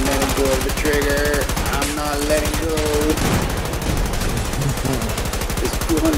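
Rapid automatic gunfire in Battlefield 2042, a loud continuous burst of dense rhythmic shots right up close, with electronic game tones and a voice over the top.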